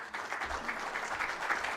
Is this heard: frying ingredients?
no